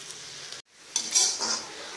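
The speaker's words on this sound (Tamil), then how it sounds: "புதினாவை ஓப்பன் பண்ணியே வதக்குங்க, இல்லைன்னா கலர் மாறிடும்." Fresh mint leaves being stirred and sautéed in a pan, a brief scrape of the utensil against metal and soft sizzling after a short cut-out, close and quiet.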